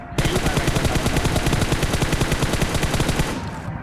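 A rapid, steady burst of automatic gunfire from a battle royale video game rattles on for about three seconds, loud and close, with no voices over it.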